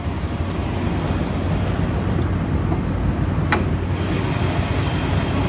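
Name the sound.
2011 Dodge RAM Laramie Hemi engine running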